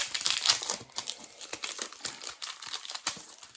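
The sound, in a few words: crinkling plastic packaging being opened on rubber stamps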